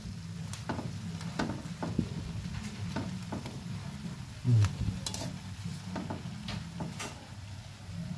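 Large prawns cook in Sprite in a pan, with a soft continuous sizzle under repeated light scrapes and clinks of a utensil stirring the pan at close range.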